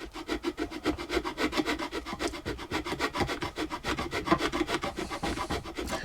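Steady back-and-forth rasping of sandpaper on a wooden guitar fretboard being scalloped, a fast even rhythm of scratchy strokes, close and continuous with no voices.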